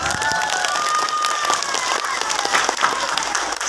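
Audience at a humorous Sundanese religious talk breaks into steady applause, a dense even patter of many hands with faint voices mixed in, moderately distant and sustained throughout.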